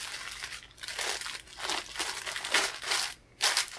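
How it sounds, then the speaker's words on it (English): Tissue paper is folded and pressed over pins on an embroidery being framed, making close, soft crinkling and rustling in several bursts separated by brief pauses, with no talk. "I've got myself a piece of tissue paper and just put it underneath everything and just folded it in half in the middle, and I'm going to fold it over the pins"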